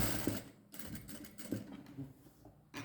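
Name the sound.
sewing machine stitching folded blouse border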